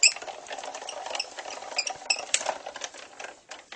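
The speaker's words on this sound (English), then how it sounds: "Line that up and just crank it right on through." A Cuttlebug die-cutting machine is hand-cranked with cardstock and a plate feeding through, giving a dry, uneven ratcheting rattle of plastic gears close to the microphone, no talking.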